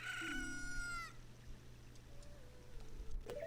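A cucco chicken in The Legend of Zelda: Ocarina of Time gives a loud squawking crow at the start, followed by quieter in-game sound effects, with no talk.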